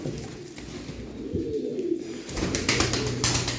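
White pigeons cooing nearby in a loft, a few soft low coos in short bursts with some rustling and shuffling around them.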